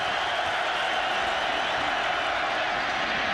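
A college football stadium crowd at a Louisville versus Rutgers game roars steadily with fans on their feet waving towels, a dense wash of cheering crowd noise with no break.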